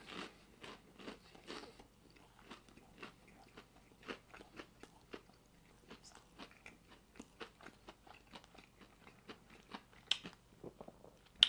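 Crisp, crunchy bites into a barbecue chicken sandwich made with air-fried chicken and Sweet Baby Ray's sauce, heard as a steady series of sharp, close crunches and chewing with no talk.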